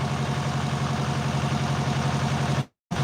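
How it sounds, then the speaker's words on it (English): A tractor engine runs steadily while hauling garden soil into a garden bed. It is a loud, continuous low rumble that drops out completely for a moment near the end, then returns. "moving my garden soil with the tractor"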